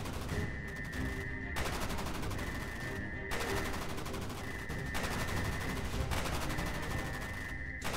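Repeated bursts of automatic gunfire crackle in a Minecraft roleplay battle at prison cells. Several rapid volleys come in a rhythmic pattern, each lasting about a second, sharp and dense, with no talking over them.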